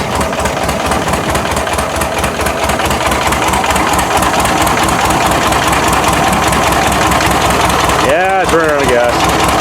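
A buggy engine idling while running low on gas, a loud, steady, rapid chugging close by that stumbles near the end as a voice speaks briefly over it.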